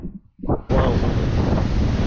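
Rushing water pours fast under a bridge at St Monans, a loud, steady broadband roar filling the scene after a brief quieter start.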